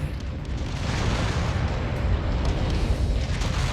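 A mech blowing apart in the video game MechWarrior 5 Mercenaries: a loud, sustained roaring explosion with rumbling low end that holds steady for several seconds.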